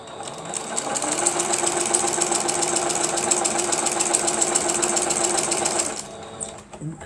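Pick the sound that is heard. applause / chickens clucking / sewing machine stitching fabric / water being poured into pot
sewing machine stitching fabric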